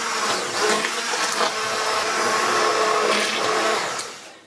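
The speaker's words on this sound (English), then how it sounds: "Right, I'm going to whiz up the soup." A blender whirs loudly and steadily as it purees a pot of celeriac soup, the motor note wavering slightly as the contents churn, then winding down at the end; no talking.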